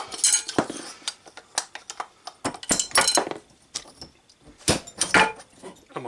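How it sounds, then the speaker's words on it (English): Small metal nuts dropping and clinking during a full renovation of a Transportel electric moped's motor, a busy string of sharp close metallic clinks and rattles, some loud, with quieter gaps between. "And my nuts are falling all over the place."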